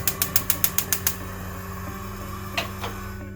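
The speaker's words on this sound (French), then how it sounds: "Maintenant, je vais allumer le feu." A gas stove burner under a small pan is lit: a quick run of about eight sharp, evenly spaced igniter clicks, then a steady hiss of gas, with a couple of faint clinks near the end.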